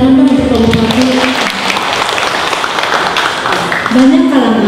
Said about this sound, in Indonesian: Tepuk tangan untuk Kabupaten.